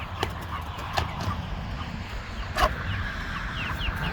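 Meat chickens on a farm cluck softly and steadily at close range, with a few sharper calls standing out over the low murmur of the flock.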